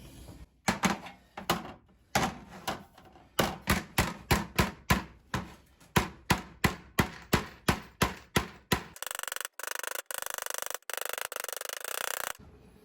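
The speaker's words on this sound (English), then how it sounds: "And I've got this hammer here, just with the rounded peen on there, so we can get a bit of shape in." Sharp metallic blows of a rounded peen hammer shaping a sheet metal wheel arch repair ring out in quick, irregular bursts, then settle into a steady rhythmic series, followed by a louder sustained stretch of noise.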